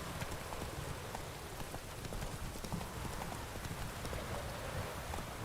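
Roach the horse gallops in The Witcher 3, a steady rapid clip-clop of hooves at moderate distance, blended with a rain-like hiss throughout.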